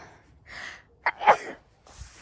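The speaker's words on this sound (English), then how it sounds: "Go on, have a sneeze." One quick sneeze up close, a short sharp burst after a brief intake of breath, with quiet room noise around it.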